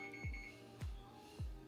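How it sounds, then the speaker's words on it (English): A kitchen timer sounds three short electronic beeps, evenly spaced about half a second apart and close by, while a Thanksgiving turkey roasts in a home kitchen. "My life in beeps."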